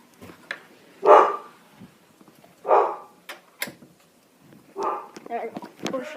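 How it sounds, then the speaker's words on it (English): Dog barking indoors, with a few loud separate barks spaced seconds apart and some quicker yips near the end, heard alongside a person talking. "There's a dog, guys. The dog is really loud sometimes."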